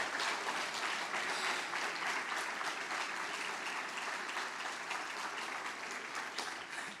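A church congregation applauds at a Portuguese-language service, a steady wash of many hands clapping together, moderately distant and even throughout.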